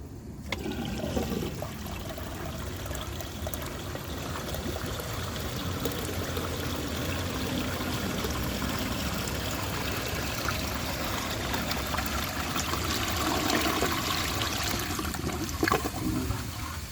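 1910 Ahrens & Ott Leader toilet flushing a washcloth, a close rushing gush of water that swirls and drains steadily, then trickles as the bowl refills.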